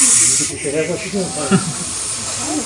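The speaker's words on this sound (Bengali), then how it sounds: "একটা হিসিং সাউন্ড করে প্রেশার কুকারের সিটির মতো।" A loud, continuous hiss from a nearby Russell's viper in a bedroom, steady throughout, like a pressure cooker whistle, with a person talking over it.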